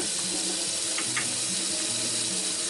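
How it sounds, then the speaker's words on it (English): Tap water pours steadily into a stockpot of bones for a demi-glace brown sauce, a continuous close rushing fill with no talking. "Filling up with water now."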